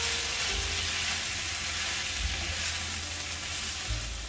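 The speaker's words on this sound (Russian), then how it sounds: "Обжариваем еще 2-3 минуты." Chicken and mushrooms fry in a pan, a steady close sizzle running throughout with occasional stirring scrapes and low bumps, no voices.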